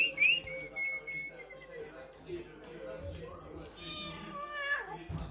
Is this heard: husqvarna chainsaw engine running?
no